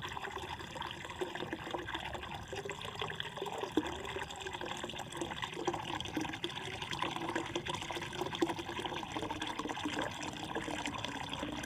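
Water streams steadily out of the hose from a solar panel heating system for an above-ground swimming pool, a continuous moderate pouring and trickling with no talk.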